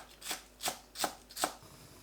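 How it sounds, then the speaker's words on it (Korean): Four crisp knife strokes slice green onion into rounds on a cutting board, evenly spaced and close, with nothing else heard. "파를 둥글게 썰어주세요."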